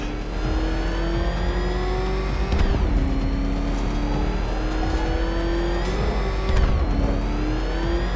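The Batmobile in Batman Arkham Knight revs hard and steadily, its engine pitch climbing, dropping at gear shifts, then climbing again, loud and close throughout, with no voices.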